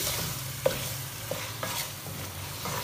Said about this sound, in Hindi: और इसके साथ अब हमने अच्छी तरह से 2 से 3 मिनट गोश्त की करनी है भुनाई